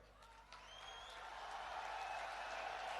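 Crowd applause swells at a Prime Minister's rally in Kanniyakumari, a faint, distant wash of clapping that builds steadily and rises in loudness.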